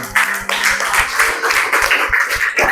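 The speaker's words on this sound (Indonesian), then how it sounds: "Beri tepuk tangan." A classroom audience applauds after a group presentation, with lively overlapping claps that start abruptly and continue loud and close for the whole stretch, mixed with a little background chatter.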